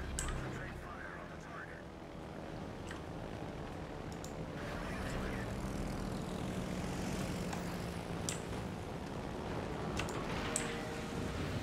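Propeller aircraft engines from planes in the World of Warships naval combat game drone steadily throughout, a continuous mid-level hum layered with game sounds and occasional talk.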